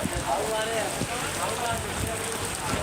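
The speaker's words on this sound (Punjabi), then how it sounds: "ਬਹੁਤ ਹੀ ਜ਼ਿਆਦਾ ਮੀਂਹ ਪੈ ਰਿਹਾ ਹੈਗਾ" Dense, steady rain pours down close by, with a faint voice or two murmuring under the constant hiss.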